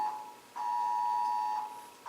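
A mobile phone goes off during a talk, giving a steady electronic tone that holds for about a second between shorter beeps, close and fairly loud, with no one talking over it.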